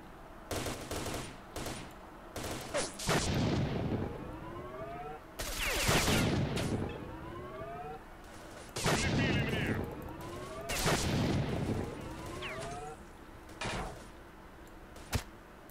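Repeated loud gunfire bursts from a newly picked-up gun in S.T.A.L.K.E.R. Shadow of Chernobyl, close shots in irregular volleys with mechanical clatter between them over about fifteen seconds.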